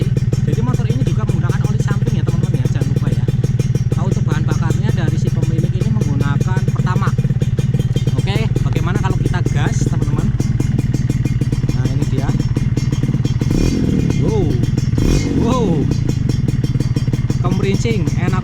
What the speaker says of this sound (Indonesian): Walaupun motor tua, kemerincingnya itu, mesinnya juga suaranya halus.